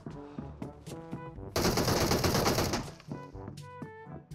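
Automatic weapon fire in PUBG Mobile, a sustained loud burst of rapid shots lasting over a second, set between stretches of tonal in-game sound and chirping.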